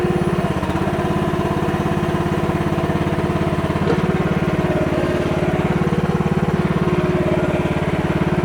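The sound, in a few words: MH12RX mini excavator running and swinging around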